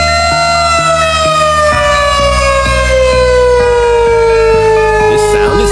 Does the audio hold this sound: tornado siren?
yes